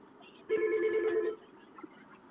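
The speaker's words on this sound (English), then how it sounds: "I'm sorry, I just got to answer this phone." A telephone rings in a short, loud electronic burst of about one second during a podcast recording, then stops, leaving a quiet room.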